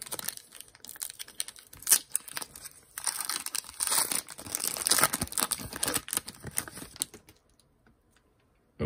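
A 2023 Donruss football card pack wrapper is torn open up close with dense crinkling and ripping in quick bursts, building for several seconds before stopping abruptly into quiet.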